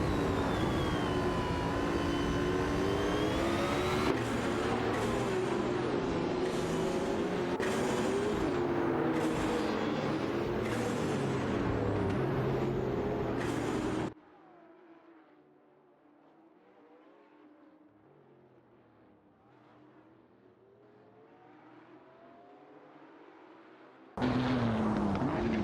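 Race car engines whine and rev continuously in a racing video game, loud and layered with gear-shift dips, then drop abruptly to a muffled low drone for ten seconds before the full roar cuts back in.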